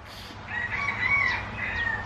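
A rooster crows once in a drawn-out call, moderately near, with faint clucking and background noise around it.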